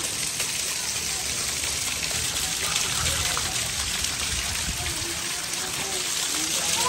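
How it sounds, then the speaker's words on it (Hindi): Heavy rain pours steadily during a strong windy July storm in Alipur, a dense, continuous hiss close by, with people sheltering beneath cover and faint voices underneath. "काफ़ी तेज़ बारिश आ रही है और हम लोग इसके नीचे छुपे हुए हैं"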